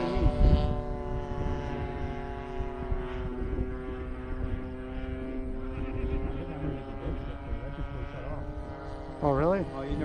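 Great Planes Super Stearman model biplane flying with its engine droning steadily at a distance, the pitch shifting as it passes, while people talk over it and wind buffets the microphone.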